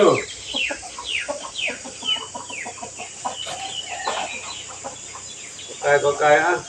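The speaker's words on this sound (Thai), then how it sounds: "ไก่อ่ะไก่กินอาหารเหมียว" A chicken clucks in short, repeated bursts while pecking at cat food on temple grounds, close and clear, with a voice joining near the end.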